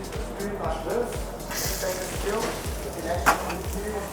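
Prawns sizzling in hot oil in a wok for pad thai, a steady crackling fry with periodic low thumps of stirring, under a voice talking throughout.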